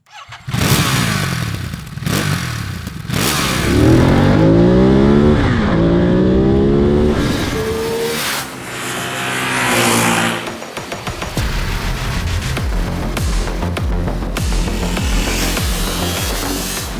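A 2021 Ducati Monster motorcycle accelerates hard nearby, its engine rising through several gears with loud revving sweeps, then settling into a steady roar.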